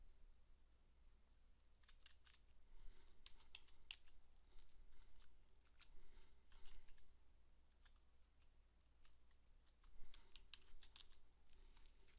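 Typing on a computer keyboard, a steady patter of quiet, close key clicks in uneven bursts with short pauses, with no talking.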